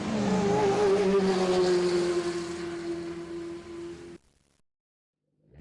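Hot Wheels Ford GT die-cast toy cars speed down a plastic race track with a steady, whirring hum that lasts about four seconds, then cuts off abruptly into silence.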